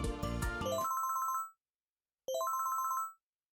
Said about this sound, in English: That's when someone's phone droid rings.